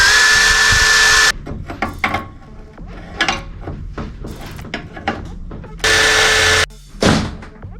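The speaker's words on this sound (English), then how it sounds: "got the impact wrench with the 18mm on it" An impact wrench with an 18mm socket hammers off the original nut on a BMW E60 535d's suspension in two loud, sharp bursts, separated by clanks and handling noises of tools and parts.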